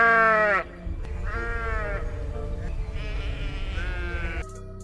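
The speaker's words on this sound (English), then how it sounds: "the sheep began bleating loudly and incessantly" Sheep bleat loudly and repeatedly, several long wavering cries following one another at close range over a low rumbling background, with a brief lull between calls.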